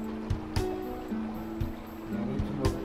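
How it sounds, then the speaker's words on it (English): A stirrer swirls water in a jar fitted with electrodes, making a steady low liquid churn with a tonal whine and occasional faint clicks. "Then push the button, and the light comes on and the stirring begins."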